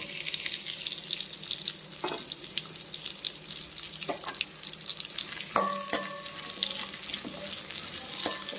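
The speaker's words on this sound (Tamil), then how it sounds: "இதை கொஞ்சம் அந்த எண்ணெயிலேயே வதக்கி வச்சுக்கோங்க." Sliced onions sautéing in hot oil with dried red chillies for a ridge gourd chutney, a steady sizzle with occasional clinks of a stirring spoon against the pan, close and without talk.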